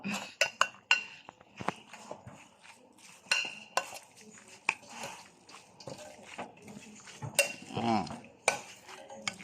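Offal being stirred into a cooking pot, with scattered clinks and scrapes of a utensil against metal over a low background, some louder knocks near the end.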